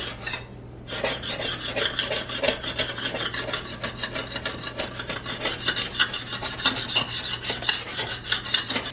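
A scraper is pushed back and forth over a glass ceramic cooktop to remove residue, producing steady rhythmic rasping strokes, close and continuous, after a brief pause at the start.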